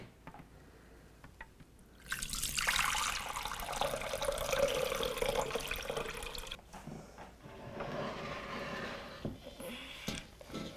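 Dandelion juice strained and poured into a pot makes a steady liquid splashing and trickling, moderately loud and close, that lasts several seconds before tapering into lighter dribbles.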